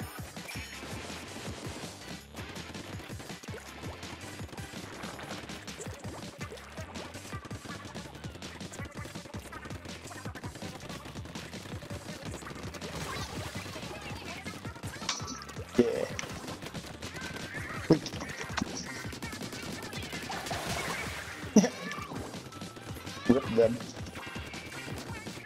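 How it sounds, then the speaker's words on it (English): Missiles land in the Splatoon 2 video game, a busy stretch of splashy impacts and crashes with sharper bursts near the end, mixed with game music and effects. "Let's wait out these missiles before firing our own missiles."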